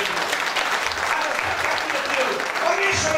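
A church congregation claps steadily and continuously for a few seconds, a dense wash of applause with no pauses.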